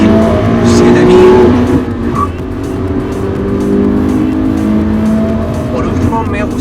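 A 2017 Subaru BRZ engine revs hard and loud, its harmonics climbing steadily then settling into a sustained high-rpm drone, with no talk over it.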